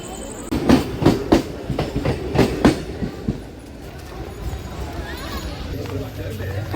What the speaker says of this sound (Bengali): গেদে লোকাল ঢুকছে সাতটা কুড়ি বাজে